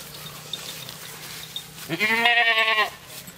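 On a goat farm, a single loud, close goat bleat rises clearly near the end over a quiet background hum, lasting under a second.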